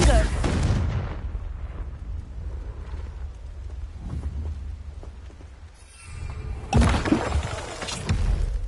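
Spell-blast explosions from the Confringo spell in Hogwarts Legacy, a loud burst with shattering debris opening the clip, a rumbling lull, then a second heavy blast near the end, with a voice briefly heard.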